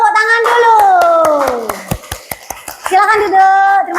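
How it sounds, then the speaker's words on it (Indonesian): A classroom of children clap in rhythmic bursts for group 4, loud and close, with a teacher's voice and children's chatter over and between the claps. "Silakan dari kelompok 4 kasih tepuk tangan dulu"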